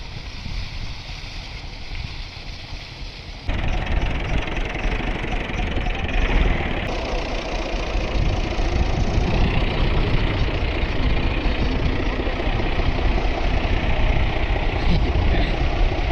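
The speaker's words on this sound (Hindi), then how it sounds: "पहली दफ़ा ट्रैक्टर चलाना शुरू कर दिते, अल्लाह खैर करे।" A tractor engine idles with a continuous low, knocking drone that grows louder partway through and then holds steady, heard fairly close.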